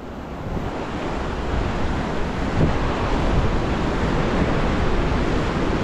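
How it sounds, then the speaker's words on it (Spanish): Ocean waves wash steadily onto Playa Estrada as a broad, continuous rushing surf with wind buffeting the microphone, heard alone without talk. "Playa Estrada"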